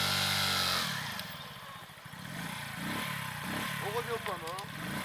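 A Masai Greystone motorcycle engine kicks into life and idles with a steady, close putter, then blips slightly as the clutch and first gear are engaged, while someone talks over it throughout.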